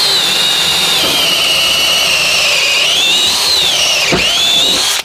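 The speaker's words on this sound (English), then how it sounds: "Let's try it on some really thick pine. We got particle board and then pine." A drill fitted with a cheap bit bores through particle board and then thick pine. It gives a loud, steady, high whine that wavers in pitch as it cuts, with a brief dip near the end before stopping.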